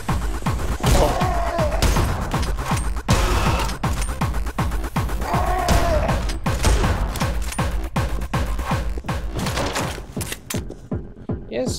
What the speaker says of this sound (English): Thank you for the Uzi. Now I have a machine gun.